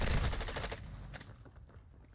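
Video game combat with a grenade blast and bursts of gunfire, a loud, dense burst of shots and impacts in the first three-quarters of a second, then a decaying rumble and scattered fainter hits.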